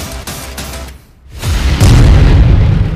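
A loud, close explosion from an Israeli strike on a camp, a deep booming rumble that swells in after a short lull and keeps roaring heavily to the end, with no voices.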